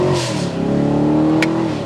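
A 2022 Chevrolet Camaro SS V8 downshifts and accelerates, a loud, close engine roar with rising harmonic tones and a brief high blip partway through as the revs build.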